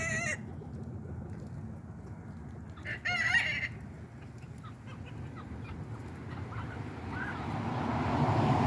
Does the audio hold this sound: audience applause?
no